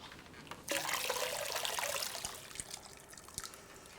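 Water pours steadily into a pot of lamb stew, a sudden splashing rush that starts abruptly, then thins into trickling and a few drips as the pour tapers off.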